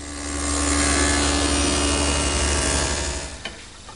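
A dado blade cuts a slot steadily through wood with a loud, droning whine that builds, holds, then tapers off near the end.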